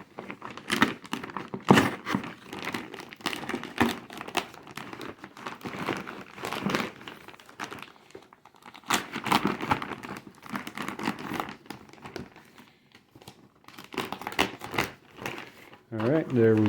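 A CRKT knife slicing through product packaging, with dense crinkling, tearing and scraping of plastic and cardboard in irregular bursts close up, interrupted by short pauses and thunks as the package shifts.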